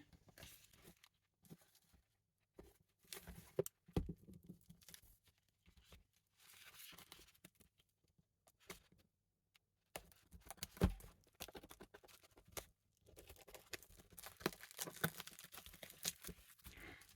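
An embroidery parcel being opened close by: quiet bursts of tearing, rustling and crinkling packaging separated by short pauses, faint and intermittent throughout.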